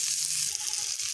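Jackfruit seeds sizzle in hot oil in a wok, giving a bright, steady frying hiss with small crackles and no talking.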